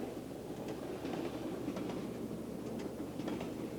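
A toy model train runs along its track with a soft, continuous rolling rumble and faint rhythmic clicks of the wheels, quiet and close, with no talking.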